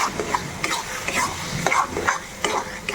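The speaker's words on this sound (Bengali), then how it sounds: "দিয়ে দেওয়ার পর খুব ভালোভাবে মিশিয়ে নিতে হবে।" A spoon scrapes and stirs borun gota paste into sizzling cooked masala in a pan, repeated close scraping strokes over a soft steady fry, with no talk.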